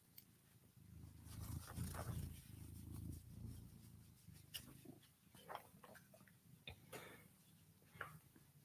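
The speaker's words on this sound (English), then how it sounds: "She loves to bunt the microphone. It's so perfect for getting her purrs." Cat purring right against a microphone, a close, loud rumbling purr swelling in the first few seconds with soft bumps and scratchy knocks scattered after.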